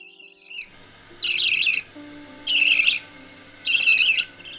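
A pet budgie in an aviary gives three loud, harsh squawking calls at roughly even intervals, each lasting about half a second, close and clear over a quiet background.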